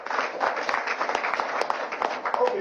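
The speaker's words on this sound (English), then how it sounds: "Another round of applause for him." An audience at a political press event breaks into sustained applause, dense overlapping clapping from a crowd, steady and fairly loud with slight swells throughout.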